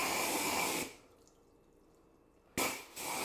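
Water sprays onto a Cerakote V2.0 coated panel with a loud, close hiss that stops for about two seconds, then comes back in two short bursts.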